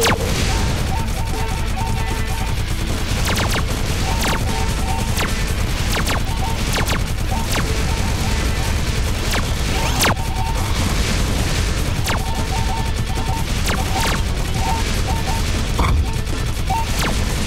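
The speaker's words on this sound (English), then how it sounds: "those blue ships are firing way earlier now" Dense barrage of blasts and crashing impacts from enemy ships firing in Galaxy Warfighter, rapid irregular explosions layered over constant game music and rumble, loud throughout.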